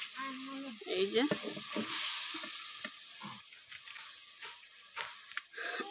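Tilapia fish sautéing in a pan for a Bangladeshi vegetable curry, a steady sizzle with intermittent stirring scrapes, close by, while someone speaks briefly over it.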